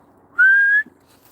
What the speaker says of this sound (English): And I'm whistling.